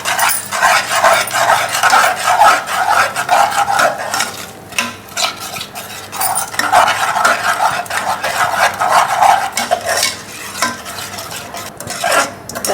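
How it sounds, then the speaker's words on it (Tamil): A spoon stirring curd into malai kofta gravy in a pan, continuous scraping and clinking of utensil against metal over a soft simmering sizzle, close and fairly loud, with brief lulls between bursts of stirring. "தயிர் சேர்த்துட்டோம் இல்லையா, அதனால் கைவிடாமல் கலரணும்"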